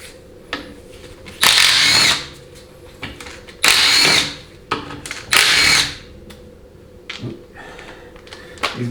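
A power tool, likely an impact gun, spins off the 10mm bolts on the pan of a 4L80E transmission during a teardown, in three loud bursts of about a second each, with quieter clanks and handling noises between them.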